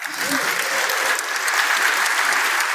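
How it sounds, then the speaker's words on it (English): A crowd applauds at the close of an event, loud, dense and continuous clapping from many people that holds steady throughout without pause. "One more round of applause."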